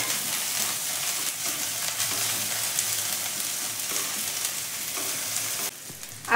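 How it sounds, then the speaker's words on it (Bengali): Ginger garlic paste fries in a hot pan with a steady, dense sizzle, stirred continuously with scraping strokes; close and loud, with no voices. "আদা রসুনের কাঁচা গন্ধটা যাওয়া পর্যন্ত এটাকে খুব ভালো করে আমি কষবো"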